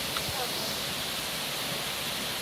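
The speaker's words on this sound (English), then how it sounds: "Wait, there's a waterfall? Yeah, you hear it?" Steady broadband rush of a waterfall in a gorge during a fishing trip, a constant hiss of falling water with no breaks, moderately loud and filling the whole clip, with faint low thumps underneath.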